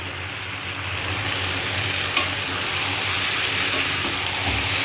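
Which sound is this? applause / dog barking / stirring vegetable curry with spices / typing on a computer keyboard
stirring vegetable curry with spices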